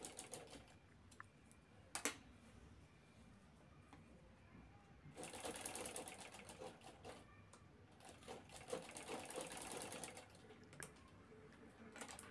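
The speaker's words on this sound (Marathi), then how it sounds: "ते दोन्ही कोपरे आपल्याला शिवून घ्यायचे खालचे." A sewing machine stitches the bottom corners of a fabric handbag in short, quiet bursts of rapid clatter, with a brief pause between runs.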